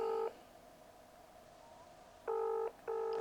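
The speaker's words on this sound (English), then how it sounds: "Come on, stop ringing." A telephone ringback tone during a call, two short electronic beeps with a gap between them, clear and close over quiet room noise.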